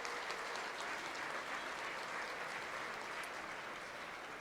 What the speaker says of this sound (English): Please give a round of applause for all of our sponsors.